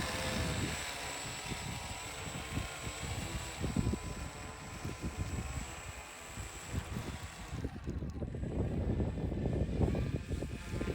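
Small RC airplane motor whirring steadily during a taxi test in a front yard, a continuous buzzing drone that swells louder toward the end, no speech.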